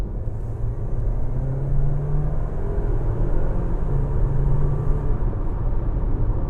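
Engine of a 2023/2024 Dodge Hornet GT crossover with a ZF 9-speed automatic, heard from inside as a steady low rumble under acceleration, with a brief rising whine that drops as it shifts near 6,000 RPM.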